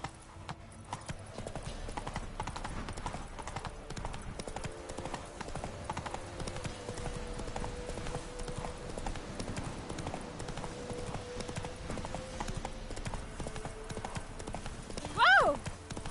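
Roach, Geralt's horse in The Witcher 3, gallops with a steady, continuous clip-clop of hooves throughout, ending in a short loud neigh.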